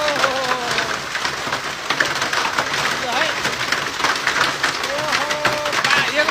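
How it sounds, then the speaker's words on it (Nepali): Hail and rain pelt down hard, a dense rattling patter of impacts with voices talking faintly beneath the downpour. "यो टेबुलै फोर्ने अरे पानी असिना परेको पहिलोपटक हेर्नुहोस् है"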